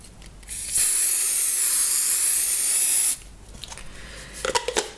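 Spray can misting lightly onto cardstock backing in a mixed media art project, a loud steady hiss lasting over two seconds, then light handling clicks and taps.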